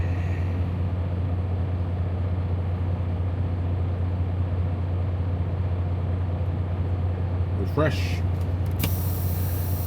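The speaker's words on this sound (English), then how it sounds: "I'm releasing my trailer brakes right now, because I just remembered it." Air brakes on a truck trailer releasing on a cold day in Tuskegee, Alabama, a sudden sharp hiss of escaping air near the end, over a steady idling engine rumble, with someone talking earlier.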